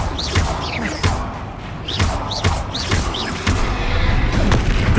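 Confringo fire spell blasts in Hogwarts Legacy during a fight with a troll, a series of sharp booming impacts roughly once a second, loud and punchy amid combat noise.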